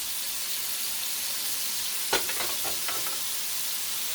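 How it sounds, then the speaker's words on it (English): Smashed beef burgers sizzle on a Blackstone E-Series electric griddle in a soft, steady hiss, with a short burst of scraping and clatter midway. No one speaks. "I know you're not supposed to smash down on your burgers. I just did anyway, so there."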